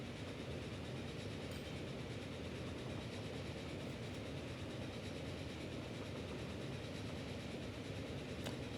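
Trains rumble steadily in the Transport Fever railway simulation game, a faint, continuous rolling drone with no breaks or voices.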